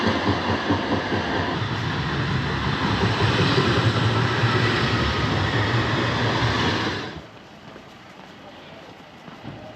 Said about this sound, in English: it's only trams that's allowed down here these days.